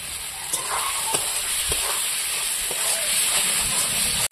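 Onion and tomato frying in spiced masala over low heat, a steady close sizzle and hiss with occasional soft stirring clicks, no talk over it.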